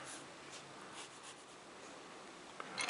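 A soft graphite pencil such as a 4B or 8B scratches and rubs across paper during a sketch, a faint continuous scratching with light strokes, close and alone, a little louder at the end.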